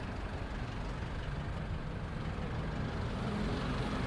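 A used car with 158,000 km runs in a steady low idle just after being started, a constant rumbling engine drone at moderate distance with no clear starter crank, holding even throughout without talk.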